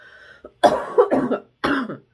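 Several harsh coughs close to the microphone, a short one followed by two bursts of repeated hacking coughs with brief pauses between.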